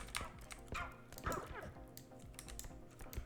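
A dog yips and barks a few times amid rapid keyboard clicking, fairly quiet, sounds from the computer game R.E.P.O.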